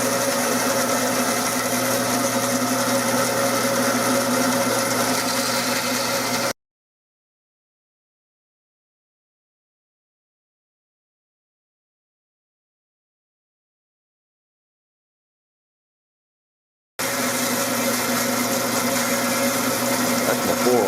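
A bandsaw with a worn lower-wheel tire runs with a steady, dense whir while cutting, goes completely silent for about ten seconds, then starts up again at the same level.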